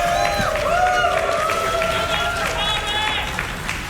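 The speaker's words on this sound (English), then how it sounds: "Let's get some hype from the crowd." A crowd at a Summer Games Done Quick speedrun event cheers and claps in a sustained wash of noise, with loud whoops and shouts riding over the applause and a commentator's voice mixed in.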